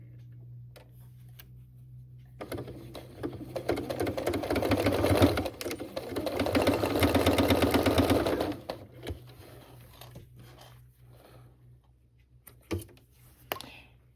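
A domestic sewing machine bastes a dish towel grocery bag holder in a rapid clattering run of several seconds between quieter stops and clicks.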